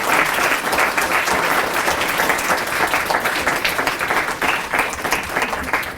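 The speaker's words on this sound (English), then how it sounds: "give yourself a round of applause" Fifth-grade students at a student council leadership summit applaud themselves, a loud, close, continuous burst of many hands clapping that stays full and steady throughout.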